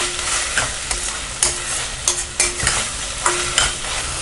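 Ginger garlic paste sizzles steadily in a hot pan for a pea and potato pulao, with a spoon stirring and scraping in short, repeated strokes close by.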